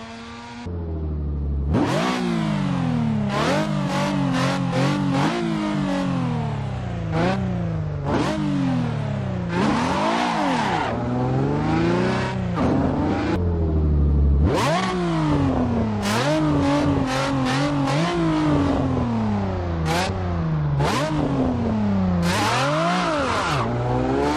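A Nissan 370Z in the Assetto Corsa racing game revs hard and repeatedly, its engine note climbing and dropping through quick throttle blips and gear changes, loud and close for the whole stretch with no talking.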